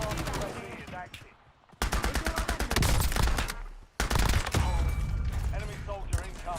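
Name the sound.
gunfire in the video game Call of Duty: Warzone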